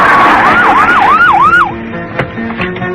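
A loud police siren sound effect in a comedic audio drama, wailing up and down in quick cycles for under two seconds before cutting off abruptly, leaving faint scattered knocks and background noise.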